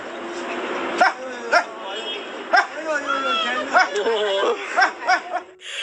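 A dog standing under a staircase gives a string of short yips and barks, about eight sharp bursts, with chuckling or laughter alongside.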